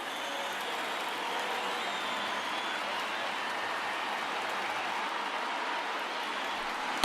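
A baseball stadium crowd in MLB The Show 19 applauds and cheers in a dense, steady wash of clapping and crowd noise, fairly distant and unbroken, with no talk over it.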